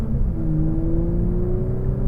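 A 2018 Audi S4 in dynamic mode giving a loud, deep, steady exhaust drone from inside the cabin while cruising, with a low rumble and a faint rising tone.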